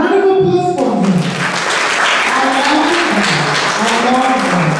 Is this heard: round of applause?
yes